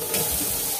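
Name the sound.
water poured into a cooking pot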